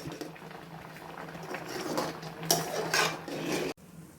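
Semolina mixture boiling in a covered pot for motichoor laddu, a steady low bubbling and simmering that swells slightly, with a few brief clinks of pot or lid near the end before it cuts off.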